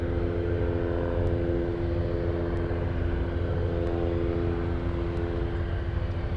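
A Boeing 747 cargo aircraft on approach, heard as a continuous broad engine roar with a steady low drone, constant in level and moderately loud, at some distance, with no voices.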